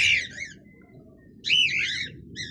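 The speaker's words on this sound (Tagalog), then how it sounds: "Ito yung mga ano natin, alaga nating ibon." Pet cockatiels and African lovebirds give two bursts of shrill, chattering whistled calls, loud and close, over a steady low hum.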